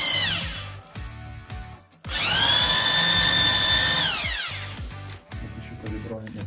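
A power drill fitted with a core bit bores socket holes into a wall, first in short stuttering bursts, then in one long steady grinding run at close range, with a brief pause between.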